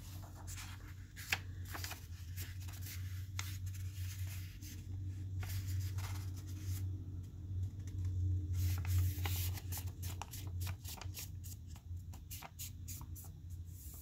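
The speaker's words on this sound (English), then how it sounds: "take your paper and fold it in half rectangularly" Sheet of origami paper being folded in half lengthwise, with soft creasing, rubbing and crinkling rustles at close range, broken by sharp crisp snaps, continuing steadily with no voice.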